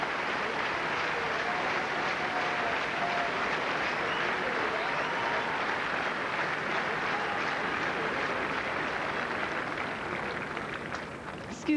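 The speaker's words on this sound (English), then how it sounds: "the champion applauding as well" Spectators at the 2005 French Open women's final in Paris give a long, sustained round of applause, a thick roar of clapping from a large stadium crowd that barely fades over about twelve seconds.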